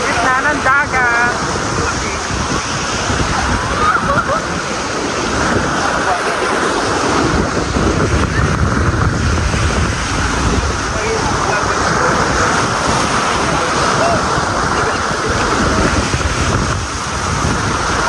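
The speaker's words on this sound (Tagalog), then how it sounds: "Sa gitna ng dagat." Ocean waves out in the middle of the sea near a sandbar during island hopping, a constant loud wash of surf with heavy wind buffeting the microphone throughout.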